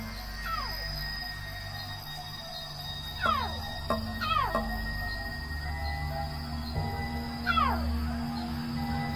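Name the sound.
lion cub crying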